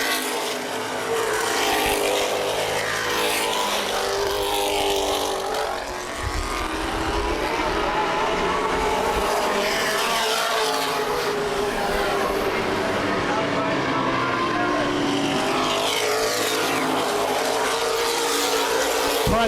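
Late model race cars in a feature race at Baer Field Speedway roar continuously, with engine pitches sweeping up and down as cars pass; a voice talks under the dense track noise throughout.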